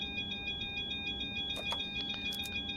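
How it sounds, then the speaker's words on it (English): An alarm tone sounds steadily in the cockpit of a Boeing 737-600 on the ground, with faint clicks and switch noises over a continuous electronic hum. "I'm going to reset that alarm."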